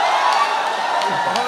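Audience at a Qatar mushaira poetry gathering breaks into loud, dense applause and cheering, a close, continuous wash of clapping with a few raised shouts over it.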